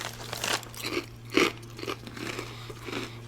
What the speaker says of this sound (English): It's a kettle cooked, so it's real thick and crunchy.